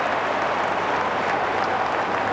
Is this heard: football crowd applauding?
yes